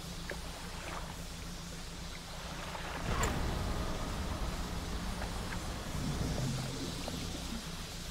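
Boat engine in the fishing game Dredge, a steady low motor drone with water wash that swells louder halfway through and keeps running without speech.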